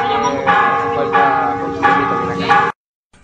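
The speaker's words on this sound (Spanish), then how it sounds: "el replicar de campanas de la iglesia por parte de los convocantes" Church bells ring loudly in repeated clangs, several strikes about every half second with long resonant overtones, then stop abruptly, rung to summon people during an assembly disrupted by drones in La Ruana.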